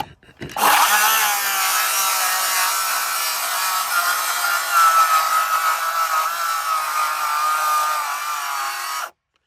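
A battery-powered saw whines steadily through wood for several seconds, loud and close, then cuts off abruptly.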